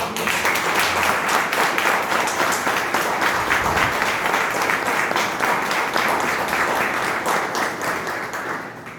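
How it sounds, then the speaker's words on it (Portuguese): A large crowd at a Spiritist institution's twentieth anniversary celebration applauds steadily, dense continuous clapping filling the room for several seconds before easing slightly at the end. "vamos todos bater palmas para a Casa de Maria"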